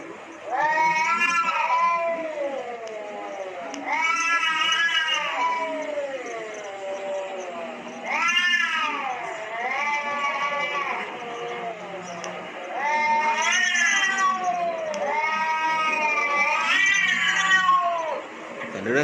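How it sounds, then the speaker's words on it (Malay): A played recording of cats fighting: repeated drawn-out yowls and caterwauls in loud, rising and falling bursts, several overlapping wails with brief gaps, heard clearly and close throughout. "kucing bergaduh."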